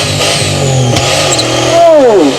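A Holden VN Commodore doing a burnout at a raceway, its engine loud and close, revving hard with a rising wail as the tyres spin, under a continuous roar of wheelspin.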